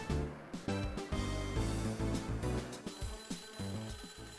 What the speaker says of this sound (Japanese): 電話鳴ってるよ